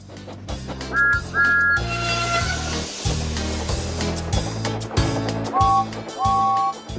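Two short double peeps from a steam engine whistle, one early and one late, sound over an upbeat backing music track.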